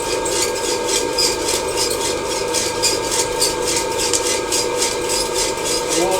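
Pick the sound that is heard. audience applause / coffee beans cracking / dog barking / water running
coffee beans cracking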